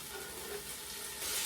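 Onions and celery soften in a glug of olive oil in a pan, giving a faint, even sizzle that rises slightly toward the end, with no voices.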